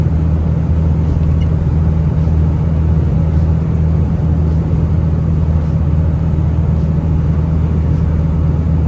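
Ford F250 with a 7.3L Powerstroke diesel cruising on the highway at a steady 70 on cruise control, a constant low engine drone and road roar heard from inside the cab without letup.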